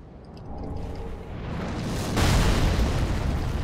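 An artillery shell explosion hits in the Dark Souls 3 video game: a rising whoosh swells into a loud, sudden booming impact partway through, then a sustained heavy rumble trails off.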